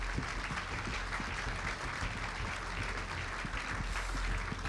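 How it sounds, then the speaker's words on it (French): An audience at a sustainable real-estate awards ceremony applauds in a dense, continuous wash of clapping that stays even and fairly distant throughout. "On les applaudit tous les 5."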